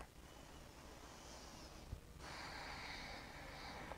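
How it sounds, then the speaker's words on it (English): A single deep, slow breath taken during a quiet yoga balance session, soft and airy at close range, alone with no talking. "Take one more big breath."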